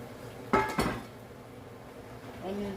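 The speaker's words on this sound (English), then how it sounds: "Right, chuck the onions in" Chopped onions dropped into a pan over browning meat while making soup, two quick clattering impacts close together, then a brief faint sizzle with a voice starting to speak.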